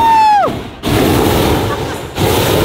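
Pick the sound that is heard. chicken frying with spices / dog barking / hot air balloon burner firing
hot air balloon burner firing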